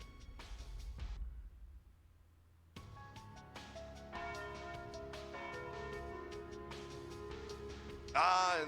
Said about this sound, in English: there's the noon bell